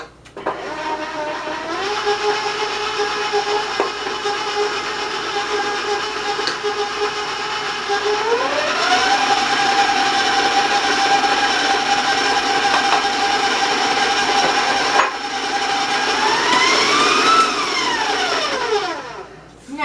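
An electric stand mixer creams butter and granulated sugar together for cookie brittle cookies, a steady loud whirring drone that climbs in pitch as the speed is raised, then drops and rises again.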